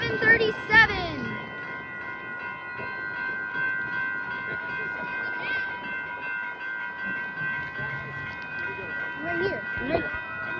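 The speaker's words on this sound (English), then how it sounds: "Alright, here comes Amtrak Capital Quarter train" Amtrak Capitol Corridor passenger train hauled by a Siemens Charger locomotive rolls past at William Street, a steady rumble and sustained tonal hum lasting throughout, with brief voices and a squeal near the start.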